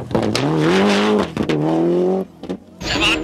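Andrew Nesbitt's rally car on a tight stage of the 1996 Circuit of Ireland Rally, engine revving hard and rising in pitch, dropping briefly, then surging again before a tyre squeal, loud and close.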